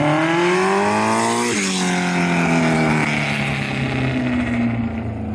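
A motorcycle engine runs on a custom exhaust with no silencer fitted, a loud, steady harmonic drone that dips in pitch around the second and a half mark and then holds a rough, throaty idle close to the listener.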